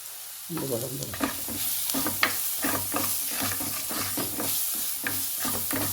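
A sudden loud sizzle bursts out as tomato and curry leaves hit hot oil in a frying pan, then settles into a steady close frying hiss with rhythmic stirring scrapes and spoon taps, and no one speaks.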